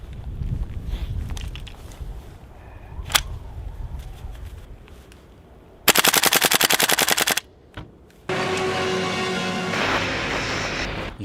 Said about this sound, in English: Using the AK in cold weather produces okay results.